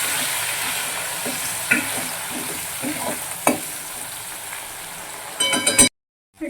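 Ginger, garlic and chili paste sizzles and spits in hot oil in a pan, a steady frying hiss broken by soft stirring scrapes and a few clinks near the end before it cuts off.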